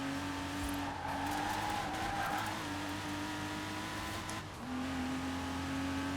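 A LEGO Porsche in the Forza Horizon 4 racing game is thrown sideways into a drift: a continuous engine drone with shifting pitch and tire squeal running throughout, with no talking.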